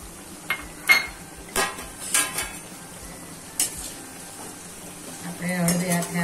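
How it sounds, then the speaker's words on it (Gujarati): Potato slices fry in oil in a pan, a soft steady sizzle beneath scattered clinks and scrapes of a utensil against the pan, growing louder toward the end. "એક એક કરીને આપણે બધા બટેકા તળી લેશું."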